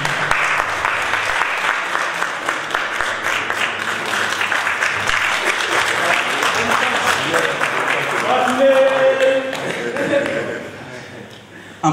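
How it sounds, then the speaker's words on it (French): Dense, sustained applause from an audience at a trophy award ceremony fills about twelve seconds, steady and loud before thinning and fading near the end, with some faint voices mixed in. "Applaudissez le son patron."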